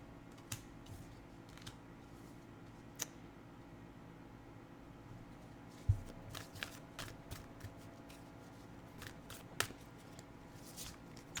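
Tarot cards being shuffled and handled during a reading: soft intermittent riffles and snaps, a few sharper flicks scattered over a quiet, faintly hissy room background.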